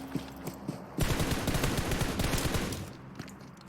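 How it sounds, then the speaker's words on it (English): Rapid bursts of automatic gunfire in the battle royale game PUBG Mobile during a league match, loud and dense, with scattered single shots before a sustained volley. "Loads of shots."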